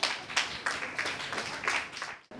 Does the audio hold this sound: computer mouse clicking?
no